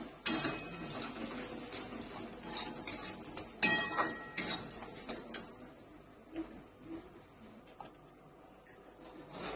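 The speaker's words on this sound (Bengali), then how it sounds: "সব মশলা একসাথে খুব ভালো করে কষিয়ে নেব" Spices with Kashmiri chilli powder sautéing in a pan, a steady frying hiss broken by metal clinks and scrapes of stirring against the pan, louder in bursts near the start and middle.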